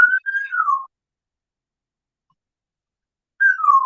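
A pet bird gives a wolf whistle, two clear rising-then-falling whistled notes close up, followed by a long silence and then the same whistle starting again.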